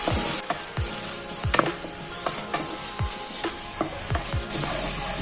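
Masala with coriander powder sautéed in a pan for palak paneer kofta curry, a steady sizzle under repeated spatula scrapes and stirs against the pan, close and moderately loud with no talk.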